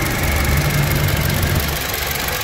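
A 2008 Toyota Innova 2.0 with automatic transmission idles steadily, a smooth, even engine hum with a low rumble, close and continuous with no talking.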